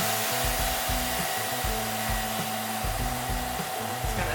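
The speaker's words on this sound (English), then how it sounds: "I place my edge of my bag over the sealer bar, close my lid until it suctions closed" A JBR VAC 110 vacuum sealer pumping air out of a bag, a steady loud motor hiss with a low pulsing whir throughout and no talking.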